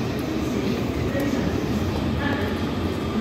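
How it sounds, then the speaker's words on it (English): Steady rumbling train noise fills the scene, a continuous low roar with faint murmuring voices in the background. "Train."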